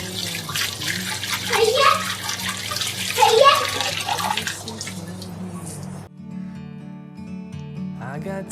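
Water sloshes and splashes as cumin seeds are rinsed by hand, with a voice in the background, then a faucet runs steadily.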